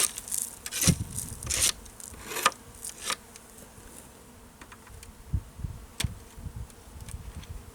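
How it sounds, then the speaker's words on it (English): A busy hum of honeybees buzzing up close at a hive, with scraping and knocking sounds over it as bees are scraped off frames, and a few sharper bursts. "bees are kind of flighty for a minute"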